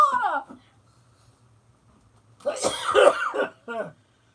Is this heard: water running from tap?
no